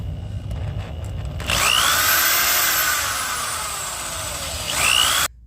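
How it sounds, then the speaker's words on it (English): Power drill boring holes through the car body of a 5th gen Camaro for a BMR driveshaft loop install, a steady loud whine running about four seconds after faint background clatter, then cutting off abruptly. "Mark the inside of these 2 holes ready for drilling."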